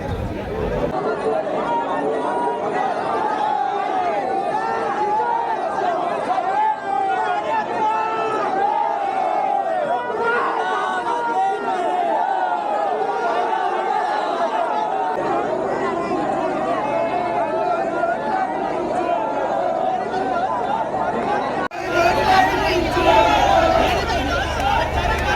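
Dense crowd chatter at a palkhi procession, many voices overlapping in a loud, continuous babble close by, with shouts rising from the throng.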